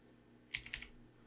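Two or three quick keystrokes on a computer keyboard while entering a Linux command, close and fairly quiet, followed by a soft tap, in a still room.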